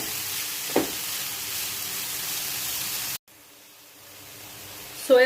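Spring onion rings sautéing in a pan, a steady close sizzling hiss that cuts out abruptly and resumes more quietly, with a short clatter near the start and another at the end.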